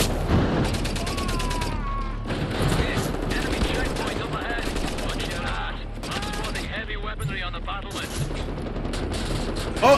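Turret gunfire in Wolfenstein: The New Order on the Gibraltar Bridge level: sustained automatic bursts and impacts mixed with explosions and game effects, with a voice talking over the shooting.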